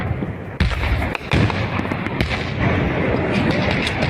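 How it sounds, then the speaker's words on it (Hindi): Heavy gunfire near the Durand Line in Paktika on the Pakistan–Afghanistan border: loud, dense rattling with sharp cracks and booming bursts that continue without a break. "पाकिस्तान अफगानिस्तान बॉर्डर पर भीषण फायरिंग"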